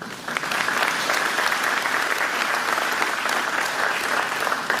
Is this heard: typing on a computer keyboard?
no